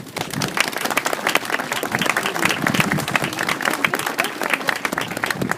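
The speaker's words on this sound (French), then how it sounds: "Je voudrais qu'on les remercie et qu'on les applaudisse." Sustained applause and clapping from an outdoor crowd at a protest against closing a railway station ticket office, dense and steady throughout with no break.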